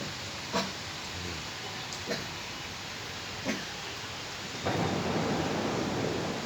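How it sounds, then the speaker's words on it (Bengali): Rain falls steadily during a storm while several sharp thunder cracks break through at intervals. Near the end the rain grows into a louder, denser downpour. "বজ্রপাত হচ্ছে অনেক, সবাই সাবধানে থাকবেন।"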